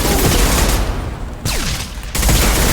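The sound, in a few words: rifle gunfire in the video game Mass Effect 2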